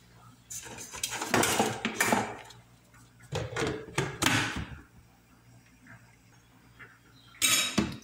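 Melted unflavored gelatin being beaten in a bowl, with clattering utensil-against-bowl strokes in several bursts separated by brief pauses, fairly close.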